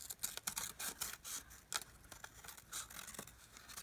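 Scissors snipping around a coffee-dyed paper tag for a junk journal, a quick series of close, crisp cuts with small rustles of paper between them.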